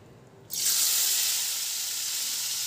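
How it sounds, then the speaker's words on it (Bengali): Turmeric-and-salt-rubbed prawns drop into hot oil with a sudden loud burst of sizzle that settles into a steady, close frying hiss; nobody speaks. "তেল গরম হয়ে গেছে, এবার আমি চিংড়ি মাছগুলিকে সব দিয়ে দেবো।"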